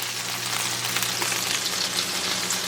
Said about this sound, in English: in this same sizzling hot pan with all that yummy chicken flavors there on the bottom